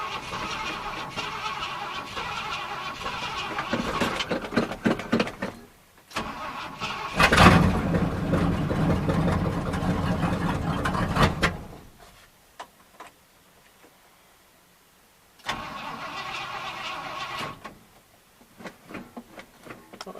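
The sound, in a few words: 1974 Ford F350 truck engine cold start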